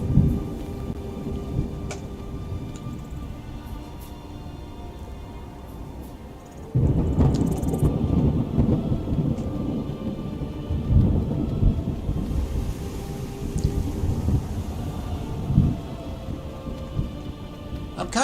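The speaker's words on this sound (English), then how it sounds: "Nice thunder." Thunder rolls through a steady rainstorm in the Skyrim video game, a continuous hiss of rain with a deep rumble that swells around the middle and keeps grumbling, loud and close, with no talking.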